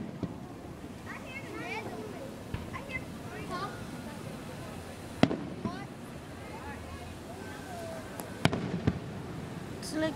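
A Fourth of July fireworks display: sharp distant booms and crackling bursts at scattered intervals, with people talking and exclaiming throughout.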